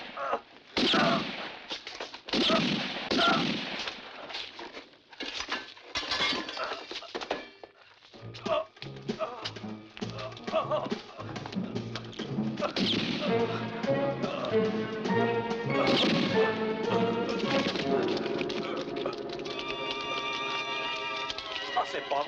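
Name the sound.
gunshots in a western film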